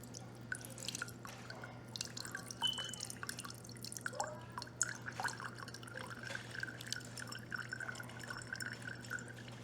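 Coconut oil dripping as it is strained, a quiet patter of irregular drips over a faint steady hum, close by and without speech.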